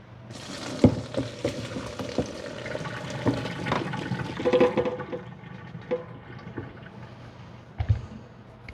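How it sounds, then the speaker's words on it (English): Water from a pot of boiled potatoes draining off through a strainer in a kitchen, a soft splashing gush with a few clanks of the pot, heard close and fairly quiet. "I'm going to take them over to drain."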